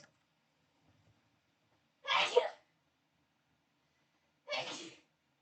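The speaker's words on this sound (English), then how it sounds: "Oh, I need to sneeze." Two separate sneezes, a couple of seconds apart, each short and sharp, in an otherwise quiet room.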